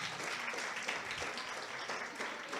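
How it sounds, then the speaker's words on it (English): Audience applause at an outdoor jazz festival stage, dense steady clapping from a crowd filling the whole moment at an even level. "Let's give them a round of applause."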